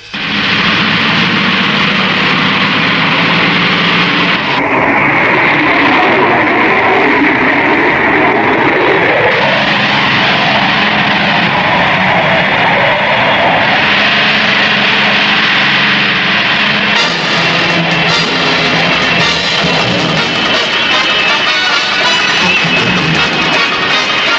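Jet aircraft engines roar loud and unbroken on a runway, their pitch and tone shifting as the planes power up and move, with no break in the noise.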